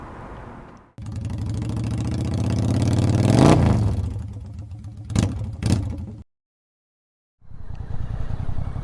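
A Mutt Motorcycles Stravaig 400 arriving: a steady, close engine drone builds to a peak, then gives two short revving bursts before cutting out, followed by a brief silence and a faint return of noise.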